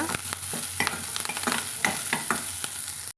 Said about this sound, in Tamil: வெங்காயம் நம்மளுக்கு நல்லா பொன்னிறமாக வதங்கி வரட்டுங்க